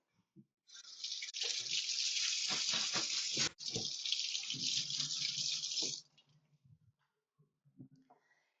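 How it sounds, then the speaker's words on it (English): A kitchen tap runs steadily and close while a zucchini is rinsed under it, the water hiss broken by a brief pause and a few clunks before it shuts off, with faint handling sounds afterward. "I'm going to wash the zucchini."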